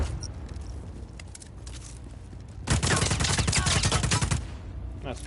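Hostile troops open up with rapid automatic gunfire in Just Cause 4, a loud sustained burst lasting nearly two seconds after a quieter stretch of game ambience and faint scattered clicks.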